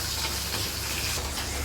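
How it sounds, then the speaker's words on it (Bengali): Fish frying in oil in a pan in a home kitchen, a steady close sizzle and hiss with light crackling and no talk. "মাছগুলো ভাজা হচ্ছে।"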